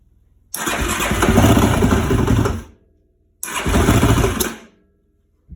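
Two loud, close starting attempts on a 2004 Yamaha YFZ450 quad after its spark plug was tightened: each is a couple of seconds of cranking engine noise that cuts off without the engine catching, with a quiet gap between them.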